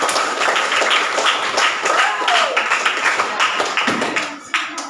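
Children clapping together in a classroom, a dense burst of hand claps that thins out toward the end, with voices mixed in.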